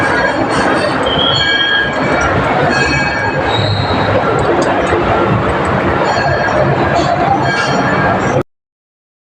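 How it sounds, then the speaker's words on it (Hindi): A train rolls along the railway line beside a temple pond at Ramdevra near Pokaran, Rajasthan, a loud continuous rumble with squealing wheels and rattling wagons. It runs for several seconds and then cuts off abruptly. "सामने रेलवे भी जा रही है"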